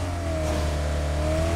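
Koenigsegg Jesko engine revving with a steady, heavy low drone and a slowly rising and falling tone, loud and close, with no talk over it.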